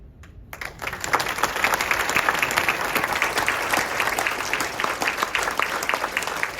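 Warm audience applause for two performers, starting after a brief quiet moment and then swelling into steady, dense clapping that continues evenly throughout.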